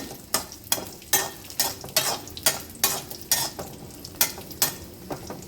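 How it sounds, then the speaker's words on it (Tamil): Cashews and raisins frying in a pan for carrot halwa, stirred with a steady series of about a dozen sharp spoon scrapes against the metal over a continuous soft sizzle, close by. "இப்போ முந்திரி திராட்சை எல்லாம் நல்லா வறுபட்டுடுச்சு."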